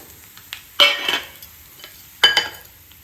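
Asafoetida dropped into hot oil while making mixed dal khichuri gives two sharp sizzling bursts, each fading quickly over a quiet background, with light stirring between them.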